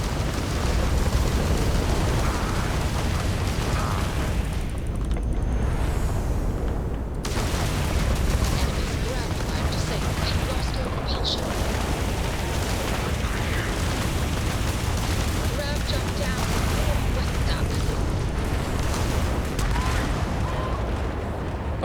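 Ship missiles in Starfield space combat burst in dense, rumbling explosions and rapid booming fire, a continuous loud barrage with brief gaps, while someone talks over it.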